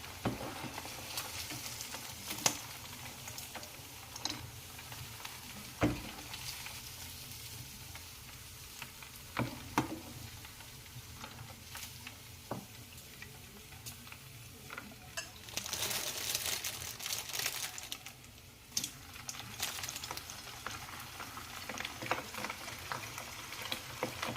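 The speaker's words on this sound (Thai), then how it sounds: "เมนูเนื้อแดดเดียวทอดค่ะ เจะทอดไปครั้งหนึ่งแล้วค่ะ" Sun-dried beef frying in hot oil in a home Thai kitchen, a soft steady sizzle with occasional stirring scrapes and louder crackling bursts midway.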